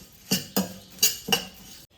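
Poha dry-roasting in a pan, stirred with a spatula that gives four sharp, close metallic scrapes and clinks in an uneven rhythm, with no talking.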